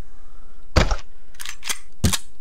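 A gun fires in the video game Terra Nova, loud and close: a single sharp report, then a pair of quicker shots and one more crack, over a low steady game hum with no speech.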